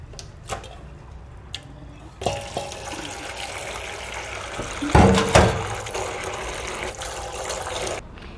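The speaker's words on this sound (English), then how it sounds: "Now, once more I will wash it. I want to make it sure that my water comes out clean." Running water from a tap gushes over a mutton stomach as it is washed, starting after a few faint knocks and continuing steadily, with a louder splashing burst midway and no talking.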